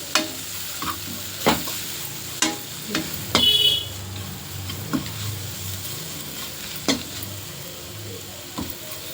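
Pav bhaji vegetables and masala roast in a pan with a low steady sizzle, broken by occasional clicks and scrapes of a spoon stirring against the pan, close and fairly quiet.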